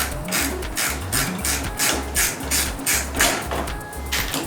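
A bolt being worked loose from a Kawasaki Ninja 400 exhaust, with repeated rhythmic mechanical ratcheting and clicking close by for several seconds.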